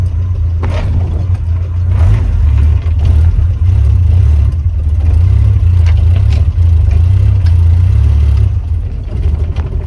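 A modified car running rich after a short shifter install, its engine rumbling steadily at low pitch with slight unevenness and faint mechanical whir, loud and close throughout.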